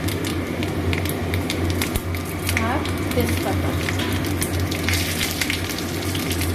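Panch phoron and bay leaf sizzle steadily in hot oil after dried red chillies have been fried, a close continuous crackle with brief pops, while someone speaks over it.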